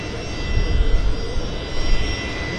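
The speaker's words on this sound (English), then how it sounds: "we got a Westjet departure as well" A WestJet jet departing Vancouver Airport on a windy day, a loud, steady low roar of jet engines with slight swells in intensity, heard close and continuous without any talk.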